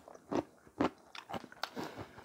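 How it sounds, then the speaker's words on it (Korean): Crunchy kkakdugi radish kimchi eaten alongside pork gukbap, several close, crisp bites and chews in an uneven rhythm, with no talking. "여러분, 많이 아삭하다고 생각합니다."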